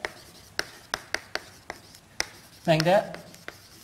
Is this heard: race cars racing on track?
no